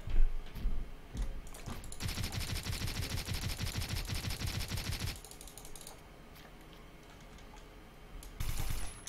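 Rapid automatic gunfire from Blockade 3D, loud and close in a sustained burst of several seconds, followed by quieter game ambience and another short burst at the end.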